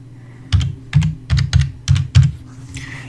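Six distinct keystrokes tapped on a computer keyboard at an even, unhurried pace, each a crisp close click with a soft low thump, heard alone in a quiet room.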